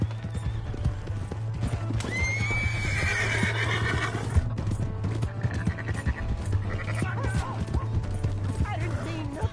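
A horse in a video game gives a loud, close whinny over steady clip-clopping hooves, and a second shorter neigh follows later while voices talk over the scene.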